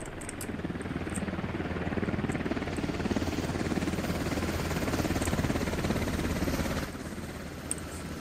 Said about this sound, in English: Oh, the chopper's coming.